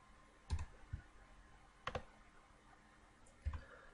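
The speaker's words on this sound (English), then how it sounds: "I'm going to click Go on that." A few separate mouse clicks on a computer button sound close and quiet, spaced out over a few seconds, with nothing else around them.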